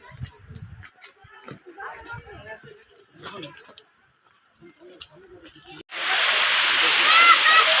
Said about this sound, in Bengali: এই যে ঝর্ণাটা, ঝর্ণার জল।